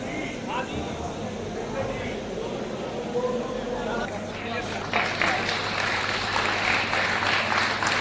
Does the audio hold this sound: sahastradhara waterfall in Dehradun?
no